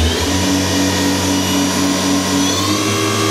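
Doosan DNM-400 vertical machining center spindle running at speed, a steady loud whine with a constant tonal hum and broadband rush, unbroken throughout.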